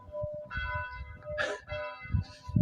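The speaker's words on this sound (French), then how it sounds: "des cloches qui sonnent." Church bells ring in a village in the Gers, France, steady sustained tones layered over a busy low rumble of nearby activity, with a brief noisy burst midway.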